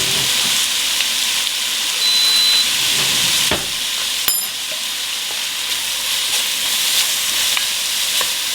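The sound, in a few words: medium sizzle of chicken noodle frying in pan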